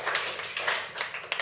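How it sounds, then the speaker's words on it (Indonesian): A group in a classroom gives a short burst of applause, a few quick rounds of light hand clapping at moderate volume. "Kita berikan tepuk tangan sekali lagi untuk kelompok"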